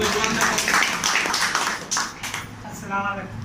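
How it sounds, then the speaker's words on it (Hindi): An audience breaks into dense applause, many hands clapping together in a steady wash that fades toward the end, with voices audible underneath. "एक बार जोरदार तालियों दीजिए"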